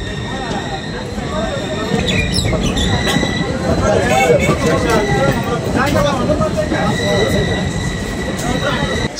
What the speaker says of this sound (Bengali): ট্রেন আমাদের ঢুকছে বরপেটা রোড স্টেশনে